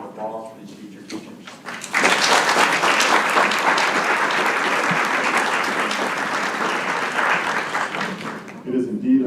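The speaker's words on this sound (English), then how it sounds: "join me in a round of applause for these future teachers" Applause at a school board academic committee meeting for a group of future teachers: a brief stretch of murmuring voices, then sudden, loud, sustained clapping from a roomful of people that holds steady and eases slightly near the end.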